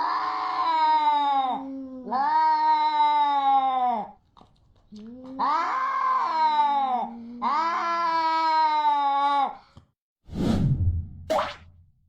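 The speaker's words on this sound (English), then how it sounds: "I think it was because of the cat screaming or whatever the hell that noise is." A cat screams in drawn-out, wavering wails, four long loud cries in a row with short gaps between them, then a sharp thump and a brief swish at the end.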